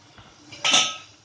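A brief metallic scrape of a utensil against a pan while mixing boiled banana flower into spices, preceded by a faint soft clink, short and close.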